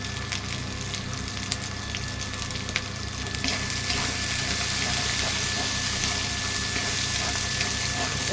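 Chicken fries in a pan with coriander powder, turmeric and chili powder, giving a dense, continuous sizzle under a constant low mechanical hum, with a few faint stirring clicks. No one speaks.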